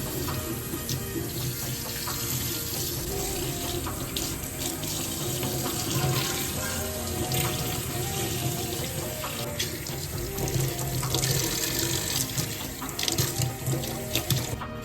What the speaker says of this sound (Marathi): जाळी साबणाने घासून झाली की ती पाण्याखाली धरून स्वच्छ धुवून घ्यायची आहे